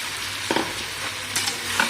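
Tomatoes going into sizzling sambar masala in a pan, with a steady broadband frying hiss and a few brief stirring scrapes and clatters at close range, no talking.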